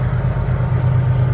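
A train rumbles steadily nearby with a continuous low, heavy drone and no voices over it.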